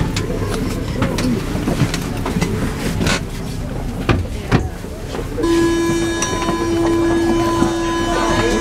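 A Paris Metro line 2 MF01 train rolls with rattles and clicks, then a high electric motor whine rises and holds steady as the car moves on.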